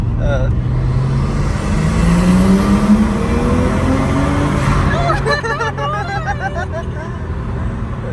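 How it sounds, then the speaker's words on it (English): Nissan Skyline R34 engine pulling hard at full throttle, a rising roar climbing in pitch through the gears from inside the car, with a gear change near the end and occasional voices underneath. "First time she's getting on full throttle."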